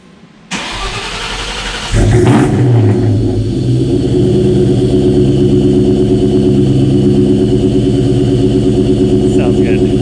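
A modified car engine cold-starting after sitting for about two weeks: a short crank, then it catches and settles into a loud, steady, rough idle close by.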